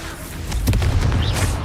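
A Confringo blasting spell goes off in the video game Hogwarts Legacy, a short booming burst with a low rumble that swells and then sustains under busy game noise.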